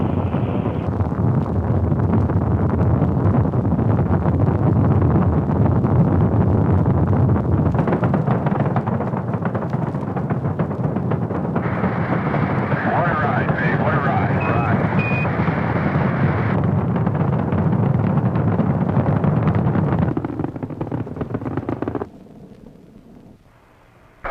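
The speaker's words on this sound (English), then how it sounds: "All engines running. Launch commit. Liftoff." Apollo 10 rocket liftoff, a loud sustained broadband roar of the engines lasting about twenty seconds with buffeting wind-like rumble, then abruptly dropping away.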